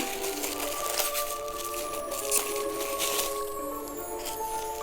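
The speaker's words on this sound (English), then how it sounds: "you dump it into the water, and then you give it a good stir" Magic powder is stirred into a container of water, giving a steady wet swishing and sloshing with faint tonal ringing throughout, close and continuous for several seconds.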